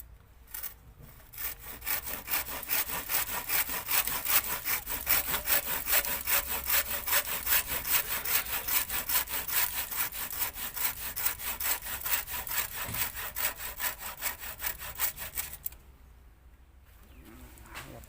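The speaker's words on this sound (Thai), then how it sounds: "ครับนี่คือต้นตอ เราก็จะตัดต้นตอก่อน" A hand saw rasps through a tree stump in fast, steady back-and-forth strokes for a long stretch, close by, then stops; birds coo faintly in the background.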